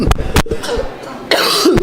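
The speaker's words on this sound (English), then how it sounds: "Me and this cold is fighting, so here I am coughing." A few harsh coughs from a person with a cold, up close, broken up by short gaps and rough throaty bursts.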